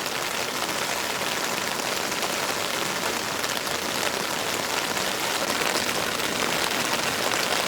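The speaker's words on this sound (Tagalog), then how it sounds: "Pagbuhos po ng ulan." Heavy rain pouring down in a sudden downpour, a dense, loud, unbroken hiss of drops hammering surfaces, steady throughout with no voices.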